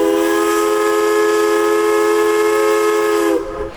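A scenic mountain train's steam whistle sounds a single loud, sustained, steady blast signalling departure, then cuts off into a brief hiss.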